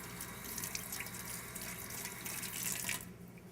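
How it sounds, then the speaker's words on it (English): Water runs steadily from a kitchen tap as a knife is rinsed beneath it, a continuous close splashing hiss that stops abruptly near the end. "Let me just rinse my knife off here."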